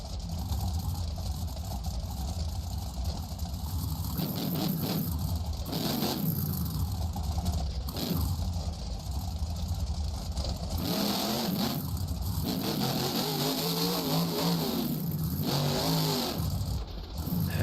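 The Dragon monster truck's engine roars steadily at a stadium event in Tampa, a loud continuous rumble that rises and falls with revs, hanging heavily in the big open arena.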